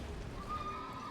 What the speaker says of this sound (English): We can kill that horse.